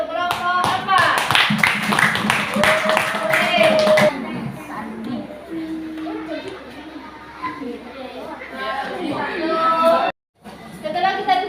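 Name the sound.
classroom applause for group 4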